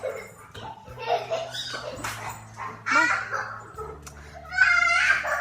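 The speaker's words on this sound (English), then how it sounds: "we had a little dog attack there" A dog barks and whimpers excitedly indoors in a house full of children, with repeated yaps mixed in among people talking and laughing close by.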